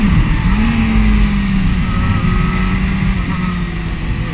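A Suzuki GSR 600 roadster engine revs steadily at close range, a continuous loud drone with a rising pitch early on, with a voice talking over it.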